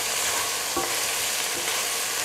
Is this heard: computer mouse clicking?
no